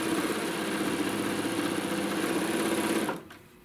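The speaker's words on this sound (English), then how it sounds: "And we're just going to sew down" A sewing machine runs steadily, stitching thin black strips onto quilt panel fabric, a continuous mechanical whir that stops abruptly near the end.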